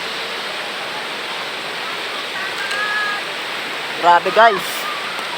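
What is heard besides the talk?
strong flowing river current after rain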